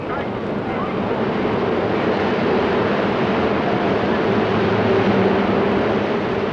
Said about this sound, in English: enterprise in the amusement area that's doing very nicely is the log flume ride